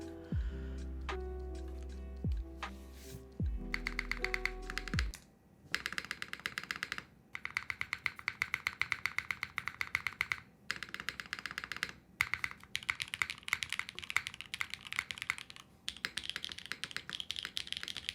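Steady mechanical keyboard typing, dense clacky keystrokes in rapid bursts with brief pauses, close and clear; a musical tone plays at the start.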